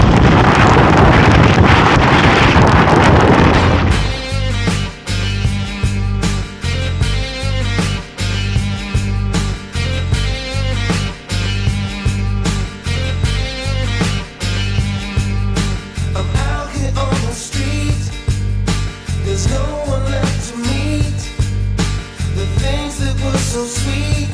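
Blizzard wind roaring at Saint Sorlin d'Arves ski resort, a loud buffeting gust hitting the microphone for several seconds, then easing into steady rushing wind with rhythmic pulses.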